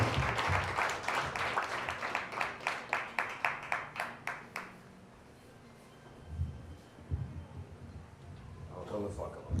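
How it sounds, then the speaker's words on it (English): At a small standup comedy show, the audience gives a first-time comedian a round of rhythmic clapping that fades out after a few seconds, followed by a quiet lull and then a voice at the mic. "give him a warm round of applause"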